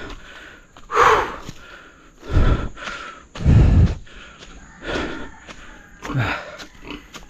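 Heavy panting from someone out of breath after climbing up to a gathering, coming in several loud, ragged bursts of breath with short pauses between them, close to the mic.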